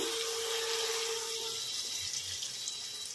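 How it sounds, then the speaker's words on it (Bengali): About half a cup of water poured into a pan of fried pointed gourd and spices for a curry, making a steady, close rushing splash that lasts a few seconds and eases slightly near the end. "1/2 কাপ মতো জল দিয়ে দিলাম।"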